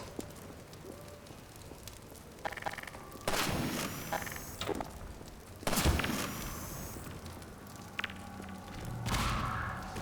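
Grenade blasts from the video game Half-Life 2 land as a few sharp, booming bursts with a longer rumbling tail, spaced over several seconds amid gunfire-like thuds and constant background din.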